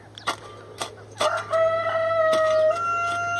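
A rooster crows loudly and close by, a long drawn-out call with a sustained tone, preceded by a few sharp clucks and rustles over a low steady hum.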